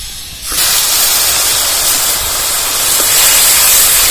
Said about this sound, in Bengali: এখন আমি পেঁয়াজ বাটাটা দিয়ে দেবো।